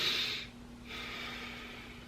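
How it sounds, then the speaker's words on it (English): Deep Wim Hof-style breathing through the nose, heard close and soft: a long breathy inhale, a short pause, then another extended rush of air. "breathing in, breathing out through your nose"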